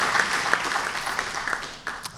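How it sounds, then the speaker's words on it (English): Audience at a company AGM breaking into applause, a brief burst of mixed clapping from a crowd that thins and fades within a couple of seconds, with a few louder claps near the end. "I thought everybody would stop and applaud at that point."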